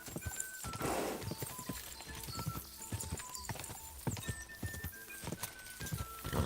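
Horse hooves clip-clop in a quick, steady rhythm in the video game Kingdom Come: Deliverance during a race, close and clear, with a neigh near the start and no clear talking.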